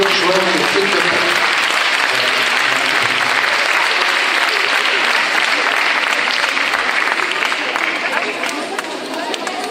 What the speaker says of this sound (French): vous pouvez les applaudir très très fort, les futurs joueurs de flûte de Pan